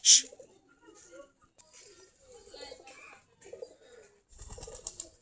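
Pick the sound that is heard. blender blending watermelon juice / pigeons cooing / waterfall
pigeons cooing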